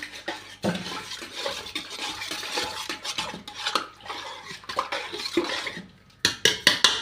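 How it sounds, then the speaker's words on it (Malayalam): Milk is stirred in a pot with a metal utensil, producing repeated close clinks and scrapes against the pot in an uneven rhythm, growing into sharper, louder strikes near the end. "ഇനി നമുക്ക് നല്ലോണം ഇളക്കി കൊടുക്കാം."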